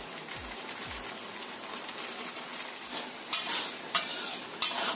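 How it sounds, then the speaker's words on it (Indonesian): Sambal with salt and broth powder stirred in a frying pan, a steady close sizzle under scraping stirs, with a few louder spatula strokes toward the end and no talk. "Kita masak sampai agak matang sambalnya ini"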